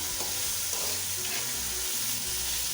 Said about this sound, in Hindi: मैं इसको अच्छी तरह से भून लूँगी।